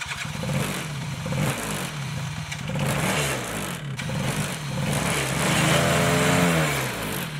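A four-wheeler ATV engine is revved repeatedly, a close, loud motor rising and falling in pitch over several throttle blips before holding at a higher whine.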